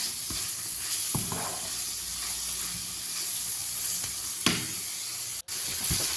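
Rice with peppers, onion and shrimp frying in a pan while being stirred for a fish-and-rice dish: a steady close sizzle runs throughout, broken by a few sharp scrapes and clacks of the stirring utensil.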